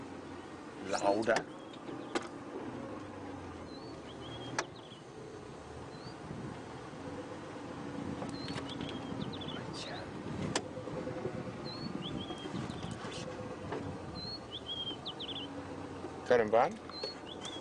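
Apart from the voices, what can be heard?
bird calling in the Maasai Mara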